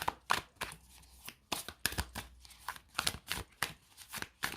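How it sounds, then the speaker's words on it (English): Tarot cards with matte card stock being shuffled overhand in quick bursts of riffling slaps, irregular rhythm, close and crisp, with no talking. "Let's just give these cards a shuffle."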